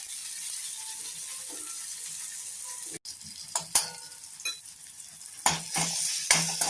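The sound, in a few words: spices sizzling in hot oil for tempering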